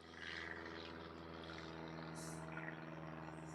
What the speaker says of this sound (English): So many planes.